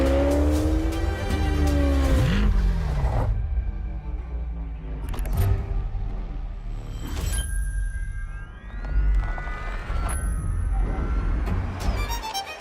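A Corvette supercar's engine revs and roars in surging bursts, pitch sweeping up and down, with sharp tire noise and whooshing passes mixed in.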